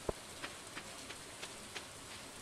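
Rain falls in the Stardew Valley video game as a faint, steady patter, with soft periodic ticks of drops landing about every third of a second.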